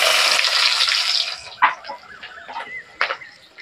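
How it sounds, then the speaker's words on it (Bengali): Onion hits hot oil with a bright, loud sizzle that hisses for over a second and then fades, followed by a few sharp clinks and scrapes of a utensil in the pan. "ওই তেলের মধ্যে আমি পেঁয়াজ দিয়ে দেবো।"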